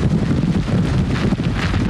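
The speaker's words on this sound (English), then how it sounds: "And the winds now just picked up, not as strong as we showed you before, but now at 44 miles an hour" Strong hurricane wind gusts batter the microphone in a loud, continuous roar with rumbling buffeting throughout, no voices heard.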